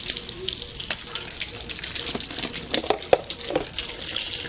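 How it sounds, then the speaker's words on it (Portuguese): Water runs from a small tap in a continuous splashing stream, with scattered irregular spatters and one sharp knock near the end. The sound is close and moderately loud. "Vou jogar uma água aqui pra ver se se dá uma clareada aqui. Torneirinho aqui."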